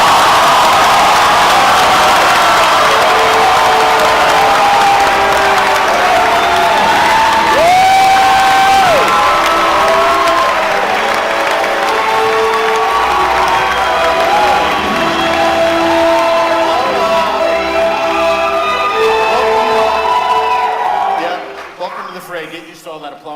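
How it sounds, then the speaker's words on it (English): A large audience at a Marvel Phase 3 presentation cheers, whoops and applauds loudly and continuously, with a voice speaking over the roar before it cuts off near the end. "Get used to all that applause, by the way."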